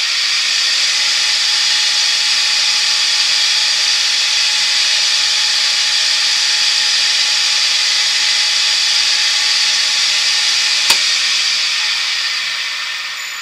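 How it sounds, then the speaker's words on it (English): A buffing mop spins against a small wooden bottle stopper on a woodturning lathe, giving a steady, loud, even hiss and whir that runs unbroken throughout, with one brief sharp tick near the end. "Now for the purposes of this demonstration, I'll show you just the buffing mop."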